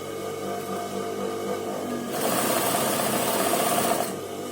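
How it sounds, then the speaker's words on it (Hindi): A sewing machine stitches the neckline of a frock in one steady, buzzing run of about two seconds, close and clear over a low background hum. "अब मुझे इस पे गले की सिलाई करनी है।"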